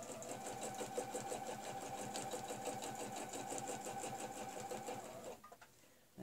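A sewing machine stitches a quilt guided along a fleur-de-lys quilting ruler, running in a steady, rapid rhythmic stitch for about five seconds before stopping near the end.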